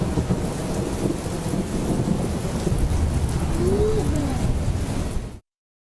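Steady, dense rain falls in Los Angeles after weeks of wildfires, a loud, close, continuous wash of noise that cuts off abruptly near the end.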